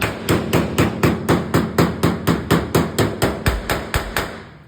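A body hammer taps a car body panel in a fast, even series of about eighteen sharp metallic strikes, close and loud, with nobody talking.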